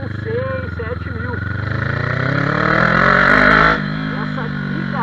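A Kawasaki Z400 motorcycle engine drones steadily on a test ride, its pitch climbing as it pulls from low revs, then dropping back; someone talks over the close, loud engine throughout.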